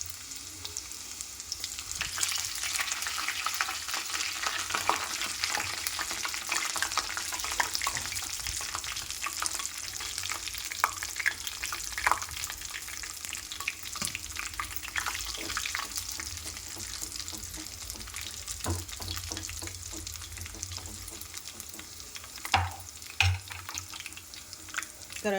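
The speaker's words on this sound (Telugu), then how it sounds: "దాంట్లో కరివేపాకు వేసుకుందాం." Curry leaves sizzle and fry in hot oil for drumstick sambar, a steady crackling hiss with stirring scrapes running throughout, close and moderately loud, with no voices.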